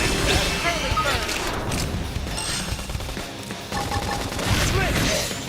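A combat scene in Xenoblade Chronicles X rings with rapid volleys of gunfire and booming impacts, loud and unbroken, the shots piling over one another with crashing hits surging near the start and end.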